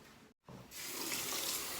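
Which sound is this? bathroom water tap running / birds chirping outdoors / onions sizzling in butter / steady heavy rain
bathroom water tap running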